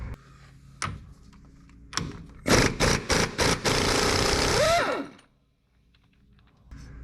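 Heavy socket and breaker bar working a big pinion nut loose on the rear axle of a 1995 Honda Passport, Isuzu Rodeo type, heard as a close, loud run of rapid metallic impacts and a sustained grinding burst ending in a rising whine, then quiet.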